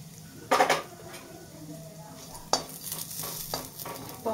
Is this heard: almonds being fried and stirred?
yes